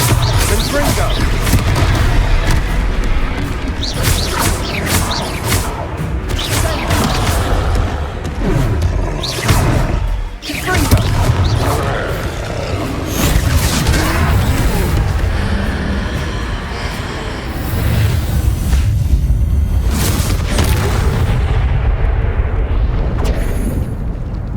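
Confringo fire-spell blasts in Hogwarts Legacy, a dense run of booming explosions and bursts that rumble almost continuously at close range, with voices talking over the action.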